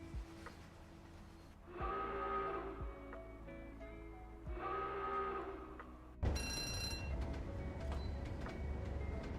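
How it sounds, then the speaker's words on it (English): Alarm in Train Sim World 5: two harsh, buzzing honks of about a second each, followed by a brighter, continuous ringing tone that sets in abruptly and holds, over a low steady rumble. "The alarm sounds like somebody angry though."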